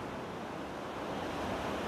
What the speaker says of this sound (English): Surf's pounding out there.